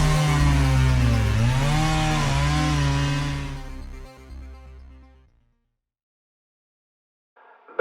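A chainsaw runs loud and close, its engine pitch dipping and rising a few times before it cuts off and fades, leaving near silence until a brief noise at the very end.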